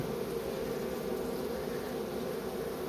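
Swarm of bees buzzing just outside a hive, a dense continuous drone of many insects close by, with no voices.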